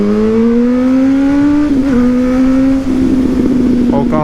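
A Suzuki GSX-S1000 motorcycle fitted with a Yoshimura exhaust revs loud and close, its tone climbing steadily then wavering and settling into a rough, throbbing idle.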